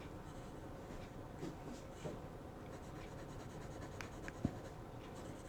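A Lamy Next fountain pen with a 1.1 stub nib and violet ink writes on paper, giving a faint, steady scratchy rasp with small tapping strokes, close and quiet.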